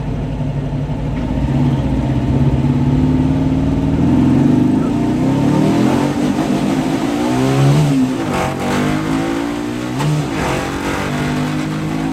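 A turbocharged sand car engine revs hard in first gear, its loud close roar rising in pitch over several seconds before dropping back and revving again in shorter bursts.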